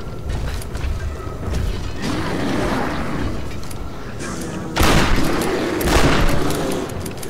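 Gunfire in the video game Tomb Raider, a few sharp bursts of shots standing out around the middle and late part amid dense mechanical game noise, with a low voice murmuring underneath.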